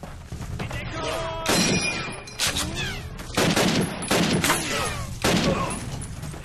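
Rifle and machine-gun fire from the Call of Duty video game at Brecourt Manor, several loud bursts with sharp cracks and ricochet whines, repeating every second or so without talk.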